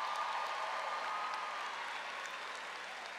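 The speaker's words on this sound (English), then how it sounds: "Let's give the college a big round of applause." Sustained applause from a commencement audience honoring a college, an even wash of many hands clapping at a distance, steady and unbroken throughout.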